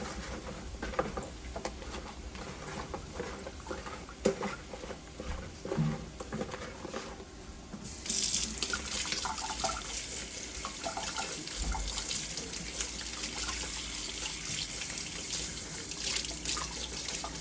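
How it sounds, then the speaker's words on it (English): Tap water runs steadily into a sink, softer at first and then louder and fuller as washing and rinsing go on, heard alone without talk. "I'm gonna wash this and then rinse it off"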